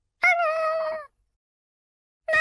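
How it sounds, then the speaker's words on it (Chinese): An animated kitten gives one clear, high, drawn-out meow lasting under a second, followed by silence and the start of another cry at the end. "快看，一只小猫！"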